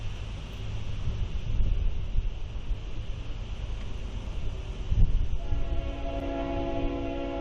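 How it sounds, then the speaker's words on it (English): An RS5T diesel locomotive sounds its horn with a sustained multi-tone blast over the rumble of rolling rail cars, the horn coming in near the end. "that's an RS5T horn on the leader."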